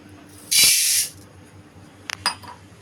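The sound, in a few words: urad dal roasting in a hot kadai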